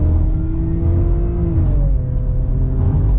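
A non-turbo BMW F10 fitted with a Euro Arts exhaust revs loudly and up close, with a deep, continuous engine drone whose pitch rises and swells partway through, and no talking.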